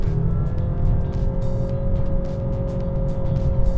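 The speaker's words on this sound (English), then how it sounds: "You can just hear the CVT" Road and engine noise from a Honda Clarity plug-in hybrid accelerating in sport mode, with a thin, steady CVT whine running above the rumble and faint ticking.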